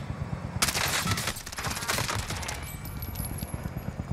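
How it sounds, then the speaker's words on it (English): Rapid gunfire in Call of Duty Warzone, a dense burst of loud cracking shots followed by sparser scattered reports, with no talk over it. "we're getting sniped from that red building again"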